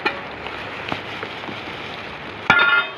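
Heavy rain pouring down outdoors, a continuous hiss of drops on surfaces with a few sharper splashes and a louder burst near the end, no speech.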